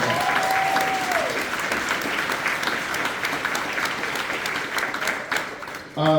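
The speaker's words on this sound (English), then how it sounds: "So please give them another round of applause." A town hall audience of Democrats in Jonesborough, Tennessee gives a steady round of applause, a full, even patter of many hands that holds for several seconds before a brief voice cuts in at the end.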